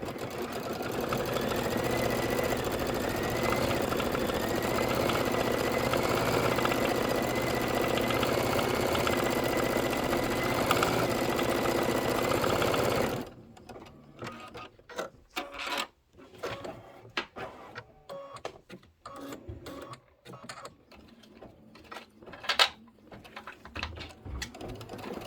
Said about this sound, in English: we are stitching out the reindeer and the Santa